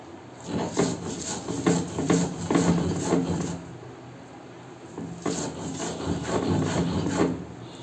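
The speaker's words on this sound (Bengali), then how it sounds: "এবার মাছগুলোকে একসঙ্গে বেটে নেব।" Fish is ground finely on a traditional grinding stone with pumpkin flowers, giving repeated rough rubbing strokes in two bursts separated by a short pause, close and moderately loud.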